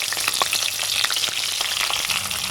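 Stuffed eggplants being laid one by one into hot oil with fried tempering spices and garlic, a continuous bright crackling sizzle with scattered pops, close and steady, no voices.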